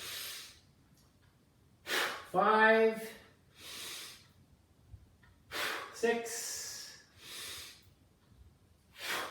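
Heavy, forceful breaths in and out during a dumbbell pullover set for the lats, several strained exhales and inhales in a slow rhythm, close to the mic, with a man counting reps between them.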